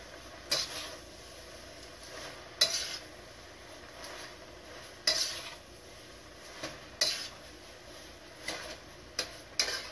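Utensil scraping and clinking against a pan while stirring napa cabbage and shrimp chop suey, a series of sharp metallic taps and scrapes roughly every two seconds over a low background hiss.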